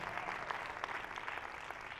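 Applause from a church congregation at a ministry summit session, a soft, steady patter of many hands heard from a distance and fairly faint throughout.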